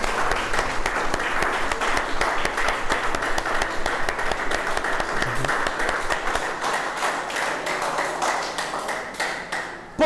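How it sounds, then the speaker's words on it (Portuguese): A church congregation claps in praise during a sermon, loud sustained applause with sharp individual claps standing out, continuing for about ten seconds before thinning near the end. "Vamos aplaudir o Senhor."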